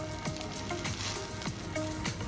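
Egg fried rice being stirred in a hot pan, a continuous sizzle with repeated scraping strokes of a spatula at an uneven rhythm, close up.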